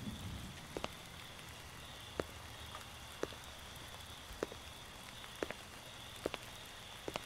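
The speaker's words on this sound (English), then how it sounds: "That rain sounds nice in my ears." Steady rain falling in a horror video game, a soft continuous hiss with scattered sharp drip-like ticks throughout, fairly quiet and with no one talking.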